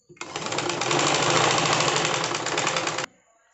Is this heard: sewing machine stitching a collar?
yes